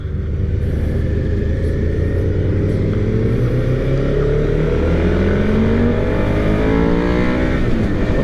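2023 Suzuki SV650 motorcycle engine revving hard at high RPM, a loud continuous roar with pitch climbing steadily as it pulls through the gear, up close and alone.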